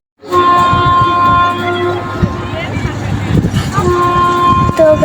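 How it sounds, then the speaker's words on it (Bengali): A museum ride train runs along a track around a pond, its steady rumble and a tonal horn-like whistle carrying throughout, with crowd chatter and voices mixed in nearby. "দেখেন ট্রেনটা চলতেছে"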